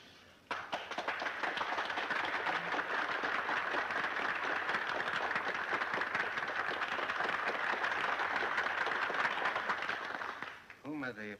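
An audience in a lecture hall applauding the English speaker Dr. Lister, a dense sustained wash of many hands clapping for about ten seconds before dying away, with a voice speaking as it ends.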